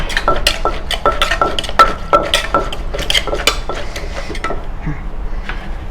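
Shredded papaya being tossed and mixed with dressing in a mortar for Thai som tam, producing close, loud, repeated clacking and scraping of a utensil against the bowl in an uneven rhythm.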